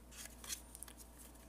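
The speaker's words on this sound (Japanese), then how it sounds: "これを表にしてハサミで頭のてっぺんから切り込みを入れます。" Scissors snip into folded origami paper while a Pokémon Reshiram model is being made, giving several faint, crisp cuts spaced irregularly against a low, quiet background hum.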